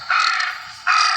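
A crow gives two loud, harsh caws close by, the first drawn out and fading, the second starting abruptly after a short gap.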